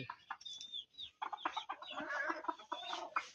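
Native desi chickens and chicks cluck and chirp close by in irregular bursts, with a few higher peeping calls mixed in, fairly quiet overall.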